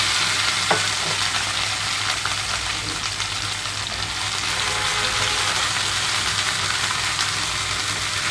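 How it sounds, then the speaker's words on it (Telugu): Okra pieces fry in hot oil with a dense, steady, loud sizzle throughout and an occasional faint clink of stirring, with no voices. "బెండకాయలు జిగురుపోవడం కోసం మాత్రం ఆయిల్లో కొద్దిగా వేయించుకుంటున్నాను"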